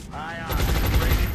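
A short, dense burst of rapid suppressive gunfire in the strategy game XCOM Long War, rattling loudly right after a brief voice.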